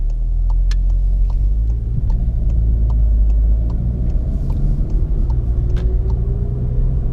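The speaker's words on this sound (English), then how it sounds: "in eco mode, it idles at a lower RPM" A 2019 Volkswagen GTI Rabbit Edition idles in eco mode at lowered RPM with auto start-stop switched off, giving a steady, close, even engine rumble and low hum with faint light ticking throughout and no talk.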